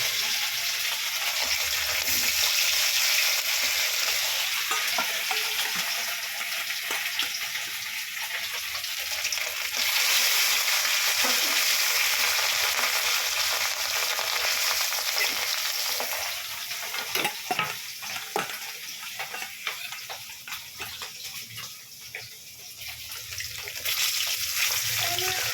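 Fish pieces sizzle and crackle in a very hot wok, a loud continuous frying hiss that runs for about twenty-five seconds with a dip near the end, with occasional clatter and faint background voices.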